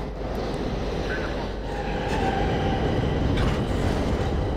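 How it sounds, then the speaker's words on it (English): Subway train rumbling into a station in the video game The Darkness, a steady loud low roar of wheels and carriages with faint squealing tones, no talking. "Oh, the next train is going to come."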